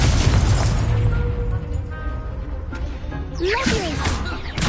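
Repeated Confringo fire-spell blasts in the Hogwarts Legacy video game, a dense, sustained rumble of booming bursts with a whooshing flare near the end.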